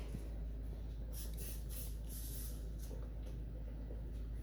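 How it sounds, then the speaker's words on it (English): Several short, hissing bursts of cooking spray come in quick succession close by, sprayed onto a hand over a sink, over a constant low hum. "Spritz a little bit of cooking spray on my hand"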